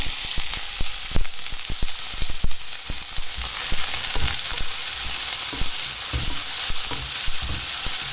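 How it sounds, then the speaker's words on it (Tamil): Onion, curry leaves and green chillies fry in hot oil with a steady, loud sizzle, broken by frequent crackles and pops and occasional stirring, heard close up. "இப்போ நம்ம வந்து வெங்காயம் கருவேப்பிலை பச்சை மிளகாய் அதை சேர்த்துக்கலாம்"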